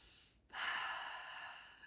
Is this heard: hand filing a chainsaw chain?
no